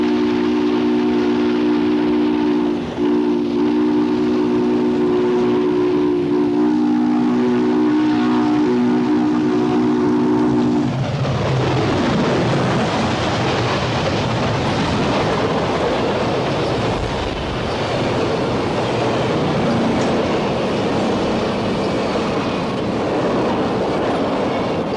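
A loud train whistle sounds with a long tone, then the heavy roar and rattle of a train rushing past close by through the small community of Rock, Kansas.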